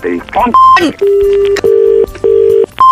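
Electronic phone keypad tones beep in a series of steady pitched bursts, loud and close, with brief speech at the start.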